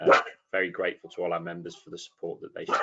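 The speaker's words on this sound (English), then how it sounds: "That's my dog barking" A pet dog barks once or twice in a home during an online meeting, brief and somewhat masked as someone keeps talking over it.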